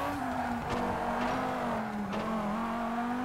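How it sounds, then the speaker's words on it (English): Car engine in the rally racing game Toca 3 held at a steady drone while tyres scrub and skid briefly through a handbrake turn, loud and close, no talk. "I'm going to try the handbrake."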